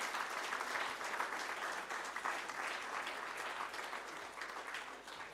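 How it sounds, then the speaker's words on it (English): A memorial lecture audience claps for the presenters and the family of the late Kyalwazi, with sustained, dense applause from a large crowd that stays steady for about five seconds before tapering slightly, no voices heard. "just give a clap to all the presenters and the family of the late Kyalwazi"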